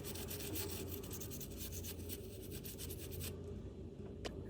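A soft brush scrubs a DJI Mini 3 Pro drone main board soaked in isopropyl alcohol while cleaning water-damage corrosion, giving a steady close rasping rub that runs continuously and stops near the end, with no talk.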